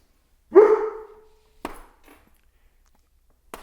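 A single dog bark rings out clearly, then a couple of fainter, short clatters follow in an otherwise quiet space.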